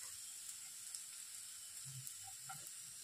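Colocasia (taro root) pieces fry in oil in a pan, a steady, soft sizzling hiss running throughout with a few faint bubbling pops, heard close and alone.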